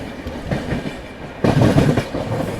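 An Indian express train hauled by a WAP7 electric locomotive rolls past at close range, a steady loud rumble with rhythmic wheel clatter over rail joints that swells sharply halfway through.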